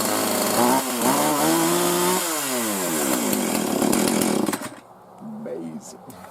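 A Husqvarna 445 X-TORQ e-series chainsaw runs loud and close, its engine rising and falling through revs for about four seconds before cutting back to a lower idle, with a voice speaking over it.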